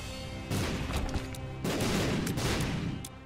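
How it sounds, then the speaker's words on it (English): Bombs detonating in the video game The Binding of Isaac: Repentance, a loud, dense run of booming blasts and rumbling explosions piling up in quick succession. "And me, because I've triggered every bomb."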